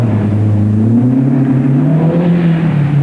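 A Datsun 1600 rally car engine drones steadily and loudly close by, pitch rising gradually under load and then easing slightly, a continuous rough rumble.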